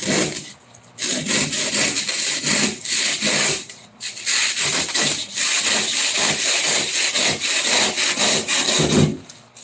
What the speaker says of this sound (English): I had to go get a saw because my hacksaw wasn't working.